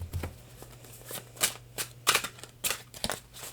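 Tarot cards are shuffled by hand in a series of quick, uneven riffles and soft slaps, close and fairly quiet, with no voice heard.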